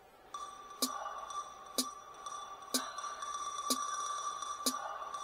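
A Maschine MK3 pure kit pattern plays softly: sharp, evenly spaced hits about once a second over a steady ringing tone, clean and without voices.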